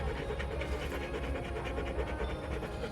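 A puppy panting steadily and loudly close by inside a Jeep, quick rhythmic breaths filling the whole stretch with no talking.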